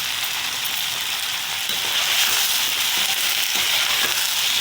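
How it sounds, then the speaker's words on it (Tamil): Eggplant pieces sauté in hot oil for a Karaikudi-style ground-masala brinjal kuzhambu, giving a steady, dense sizzle and crackle that holds evenly at close range with no voices. "கத்திரிக்காவை சேர்த்துட்டு கொஞ்ச நேரம் எண்ணெயில் வதக்கலாம்"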